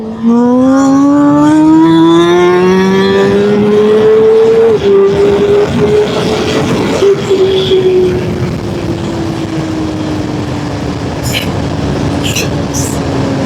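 A loud motorcycle engine revs up sharply with rising pitch, then holds and settles into a steady drone as the bike moves off, close to the microphone.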